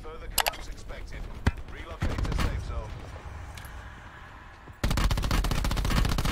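Gunfire in the video game Call of Duty: Blackout: a few scattered shots early on, then a sustained rapid automatic burst near the end, with game noise around it.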